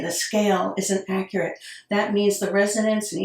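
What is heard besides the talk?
None of the usual background noises is heard.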